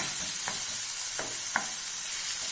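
Chopped tomatoes sauté in a pan for a bread chilli breakfast, with a steady low sizzle and three sharp scraping stir strokes spaced through the clip.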